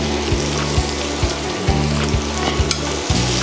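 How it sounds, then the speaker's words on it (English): Butter hitting a hot pan with crushed peppers for a roux, loud crackling sizzle with a steady frying hiss and rhythmic scraping knocks from stirring, close and continuous. "Now we're going to add our butter."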